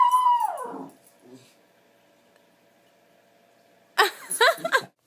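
A dog howls with a drawn-out, falling tone for under a second, then after a quiet stretch a few short, sharp vocal bursts follow; a voice may be among them.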